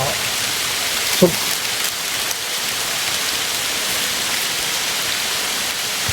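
Steady rain pours down with a dense, even hiss, a faint brief knock near the start.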